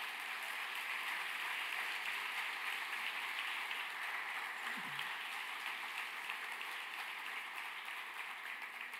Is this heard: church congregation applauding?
yes